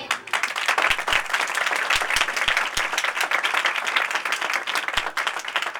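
Church congregation clapping during a sermon, continuous loud dense applause with a few sharper low thumps scattered through.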